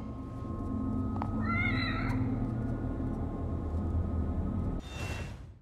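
A game cat in The Evil Within meows in a short run of rising cries near the middle, heard faintly over a steady droning ambient backdrop, followed by a louder burst of noise.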